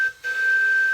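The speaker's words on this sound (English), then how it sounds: "And we can blow the whistle." A model live steam Allen Mogul locomotive running on compressed air gives a steady, clear whistle blast of about a second, briefly broken near the start and then held, with no voices.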